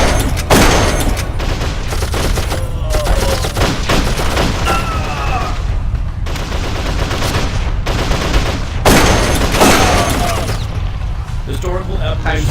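Gunfire in the video game Darkest Of Days, with repeated bursts of automatic and single shots echoing through a battle, loud and sustained, with a voice speaking over the shooting at times.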